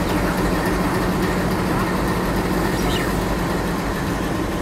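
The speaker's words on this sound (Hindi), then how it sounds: "ये रही अपनी पातालकोट एक्सप्रेस और ये है अपनी अम्बाला श्री गंगानगर इंटरसिटी एक्सप्रेस" Patalkot Express at a railway station, a dense, loud, steady rumbling roar of train and platform noise with no distinct breaks.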